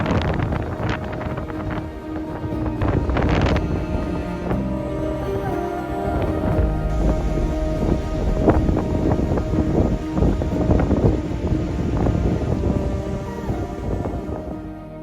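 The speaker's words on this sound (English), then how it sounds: "We decided not to try to load her while there was such huge wind gusts." Strong thunderstorm wind buffets the microphone in heavy, roaring gusts, with rattling and clattering noises throughout, loud and sustained.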